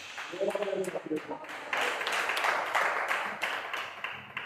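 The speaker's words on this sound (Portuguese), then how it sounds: "Aplaude a Jesus" A church congregation applauding Jesus at a Portuguese sermon: a short vocal phrase opens, then a dense burst of many hands clapping swells and holds steady for several seconds before tailing off.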